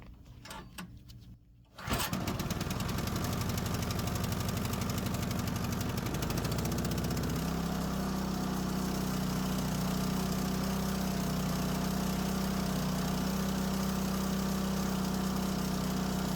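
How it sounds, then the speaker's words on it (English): MTD snow thrower engine pull-started after a year in storage with the primer pumped and choke closed: a single pull sets it firing, and the small engine settles into a steady, loud, close idle hum that runs to the end. "Kill switch in. 3 pumps on the primer. Carburetor choke is closed. And time for a pull."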